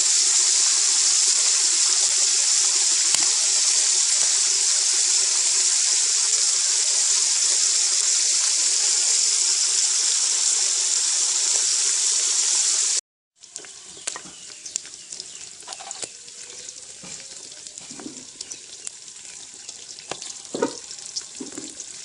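Pork belly sizzles loudly and steadily in a hot pan for about thirteen seconds, then the frying drops to quieter crackles and scattered pops with light kitchen clatter.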